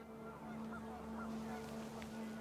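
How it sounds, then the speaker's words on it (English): Panicked geese honk a few times in a game scene as the wind picks up, brief faint calls over a steady low hum and windy background. "The wind picked up and panicked geese appeared and quickly went."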